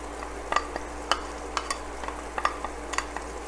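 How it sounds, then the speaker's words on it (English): A spatula scrapes and stirs garlic frying in a pan for a Portuguese-sausage bean stew, giving sharp intermittent clinks over a constant low sizzle, close and clear with no talking. "my spatula is not reaching all the garlic"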